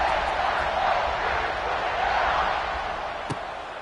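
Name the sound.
stadium crowd before kickoff in the video game College Football 26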